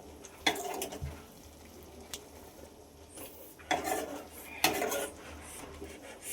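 A spoon scraping and clinking against a pan while Maggi noodles are stirred, in a few separate faint strokes over quiet background.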